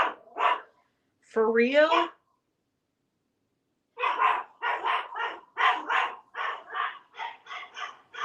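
A dog barks indoors in a rapid series of sharp, close barks after a brief whining yelp, with someone speaking briefly just before the barking starts.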